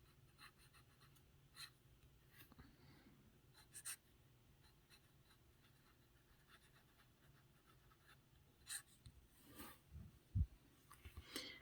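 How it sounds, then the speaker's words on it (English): A Visconti Viscontina fountain pen with a wet medium nib writes on paper, its faint, close scratchy feedback coming in short strokes with a few louder scrapes near the end. "Either way, it's enjoyable feedback."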